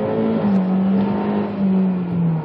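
A 2003 VW Jetta 1.8T turbo engine pulls hard under full throttle, a steady droning engine note climbing slightly in pitch, close and continuous with no talk.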